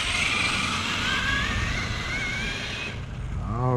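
Traxxas T-Maxx RC truck running on 6S power across a field, a steady high electric motor whine with shifting pitch that fades near the end as the truck pulls away.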